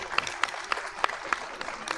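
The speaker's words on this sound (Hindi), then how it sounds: "इनके लिए भी ज़ोरदार तालियां" Faint, thin applause from an audience at a political welcome gathering in Islamabad, a handful of distant claps spread over two seconds with no voices on top.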